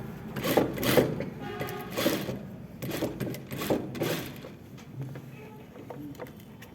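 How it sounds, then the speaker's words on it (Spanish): A domestic sewing machine stitches a topstitch seam over the pocket of a pleated skirt in several quick bursts, each a rapid mechanical whir with pauses between. It is close and fairly loud, with no talking. "voy a pasar una costurita sobre lo que es el bolsillo, que le llamamos una costura de carga"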